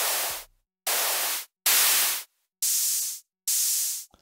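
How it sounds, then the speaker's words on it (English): Synthesized white noise from the free Vital synth plugin used for drum sound design, fired in five hissing bursts of about half a second each, separated by silences, growing brighter and thinner with each burst. "So we have that white noise here."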